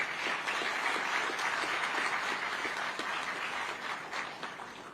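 Audience applause fills the room, a dense steady patter of many hands clapping at moderate distance, sustained throughout and tapering slightly at the end.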